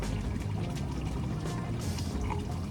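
Coragen pesticide liquid poured into water for spraying a gram (chickpea) crop, a short, steady splashing pour that stays fairly close and continuous throughout.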